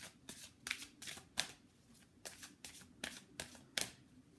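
Tarot cards shuffled by hand in a series of quick, crisp riffling bursts, roughly ten of them in steady succession, close and clear with no talking.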